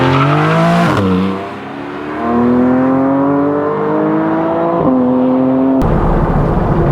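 A Porsche 718 Boxster GTS with its 4.0-liter engine revs up, the exhaust wailing higher and higher, then drops briefly before climbing again, loud and close, and ends in a burst of harsh roar.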